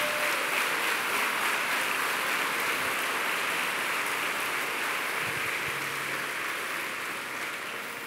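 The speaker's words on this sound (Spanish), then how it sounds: "Dale un aplauso al Espíritu Santo" A large church congregation applauds during a sermon in a steady, dense roar of clapping that continues for several seconds and slowly fades.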